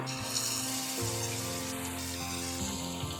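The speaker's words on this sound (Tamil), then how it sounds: "இப்போ வந்து நம்ம முட்டை போண்டா போடலாம் இப்போ கடாயில் போட்டுக்கோங்கம்மா" Egg bonda, battered boiled egg, frying in hot oil in a kadai, a steady dense sizzle and crackle close up throughout, without talk.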